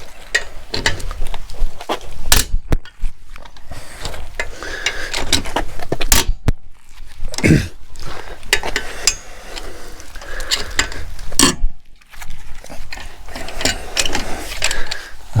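Wheel bolts being loosened on a VW Transporter van, close metallic ratcheting, clanks and tool knocks in irregular bursts with brief pauses, loud and continuous.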